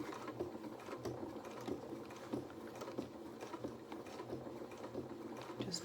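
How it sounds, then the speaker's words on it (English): A sewing machine stitches fabric a few stitches forward and a few back while making a stuffed toy's legs, giving a faint, steady mechanical whir with rapid needle ticking that runs continuously, with no talk. "A couple of stitches forward, a couple of stitches back."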